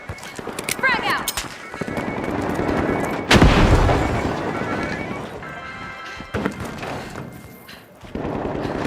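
Video game explosion and gunfire in The Finals as a frag grenade goes off: a loud broadband blast at the midpoint amid scattered shots and clatter, with a commentator's voice talking over much of it.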